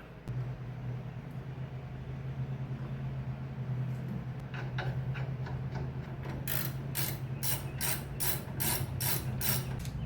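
A ratchet tightens the rear brake caliper bracket bolt on a 2002–2008 Dodge Ram. Faint clicking begins midway over a low background hum, then becomes loud, quick, evenly spaced clicks near the end.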